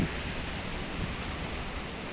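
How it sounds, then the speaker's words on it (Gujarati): Heavy rain pours steadily and loudly close by while someone shelters under a roof, a dense unbroken hiss with no talking. "અત્યારે વરસાદ પાછો ચાલુ થઈ ગયો"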